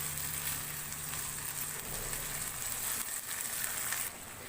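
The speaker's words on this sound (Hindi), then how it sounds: "टमाटरों को 2 से 3 मिनट मटर के साथ भून लेंगे।" Tomatoes and peas frying in a pan over a medium flame give a steady, continuous sizzle with faint stirring, close and fairly loud, alone without talk.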